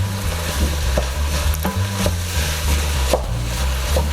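Ground turkey and cabbage stir-fry in a pan, giving a steady low sizzle with scraping stirs and a few sharp clicks of a utensil against the pan, close and continuous throughout.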